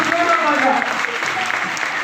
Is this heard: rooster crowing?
no